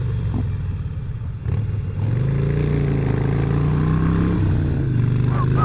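A motorcycle rolls in first gear over a gravel-strewn, twisty road, its engine a steady close drone with a slight rise partway through, mixed with wind and road clatter.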